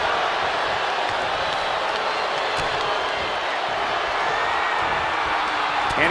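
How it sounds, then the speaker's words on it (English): A wrestling arena crowd in WWE 2K23 during a Friday Night SmackDown match roars steadily and loudly throughout, a dense, unbroken wash of cheering. "What a raucous crowd here tonight."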